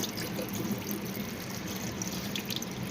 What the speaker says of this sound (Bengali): শেকড়গুলো ধুয়ে নেব